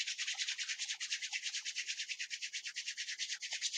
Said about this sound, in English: now we're going to rub our hands again